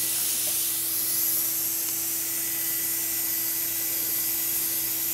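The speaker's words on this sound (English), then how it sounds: "Spray it up." Continuous fine hissing spray of spray-tanning bronzer from an airbrush-style sprayer in a salon, steady and close, with a constant mechanical hum underneath and no pauses.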